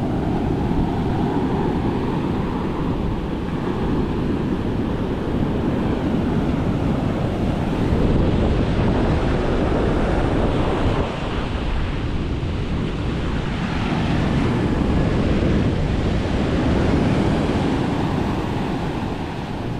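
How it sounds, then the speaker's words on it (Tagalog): Large ocean waves crash and roll continuously, with heavy wind buffeting the microphone; a loud, sustained roar without pause. "Talagang laki pa ng alon."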